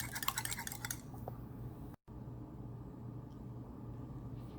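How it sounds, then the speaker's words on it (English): Four eggs beaten in a bowl, a fork or whisk clattering rapidly against the sides in a quick rhythm for the first second or so, followed by quiet kitchen room tone with a low hum. "I have 4 eggs right over here that I'm going to beat."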